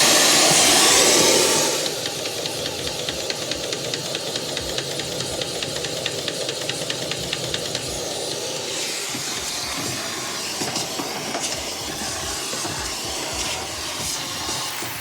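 A vacuum cleaner nozzle clears buildup from the blower wheel of an Electrolux dryer: a loud, steady broadband suction roar with a run of rapid rhythmic ticking as the nozzle knocks against the wheel blades.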